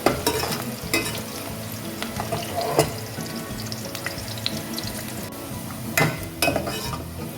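Onions frying until golden for a Pakistani-style chicken salan sizzle steadily in a pan, broken by repeated metal spoon scrapes and clinks against the pot; close and moderately loud, with no talking.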